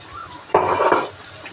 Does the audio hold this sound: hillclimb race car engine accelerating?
no